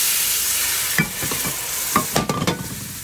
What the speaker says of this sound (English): Add 1 tablespoon of cornstarch to the pan and mix it.